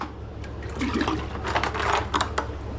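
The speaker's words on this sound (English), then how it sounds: "So I get a scoop over pond water." Pond water scooped into a bucket during a savanna monitor tank remodel, heard as a steady close watery pour and slosh with a few splashy surges, with no talk over it.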